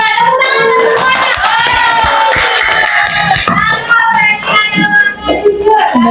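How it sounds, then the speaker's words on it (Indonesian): Group of schoolchildren in a classroom lesson on honesty clapping their hands together in steady rhythmic applause, mixed with loud children's voices chanting and shouting throughout. "Tepuk tangan untuk semuanya"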